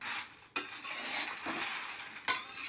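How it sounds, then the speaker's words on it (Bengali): Peanuts being roasted and stirred in sand in a pan: a loud, continuous gritty rustle and hiss, with sharper scraping bursts at the start and again near the end. "বাদাম বালিতে দিলে ভালো হয় বাদাম ভাজা।"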